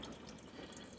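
Water runs steadily from a tap into a large Cuisinart 14-cup coffee pot, a brief, soft, continuous splash heard up close with no talking.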